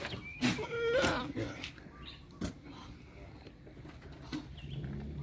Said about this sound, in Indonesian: digigit kambing mic-nya